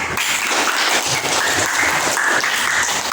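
Dense, continuous applause from a classroom of students during a lesson, loud and close, a steady wash of many hands clapping together with no talk over it.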